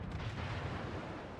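Heavy naval guns boom continuously in World of Warships, a deep rumbling barrage of friendly fire filling the whole moment, loud and close with no pause.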